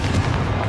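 A single Confringo blasting spell explosion in Hogwarts Legacy, a brief loud booming burst with a dense low rumble.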